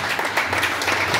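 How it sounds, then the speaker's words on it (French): A church congregation in Chalon-sur-Saône claps together in a dense, even burst of applause that fills the room and stays steady throughout. "Applaudissons pour nos amis."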